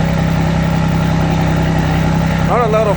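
A 2023 Ford Ranger engine idling, a steady, close, even rumble with a brief rise near the end, with no talk over it.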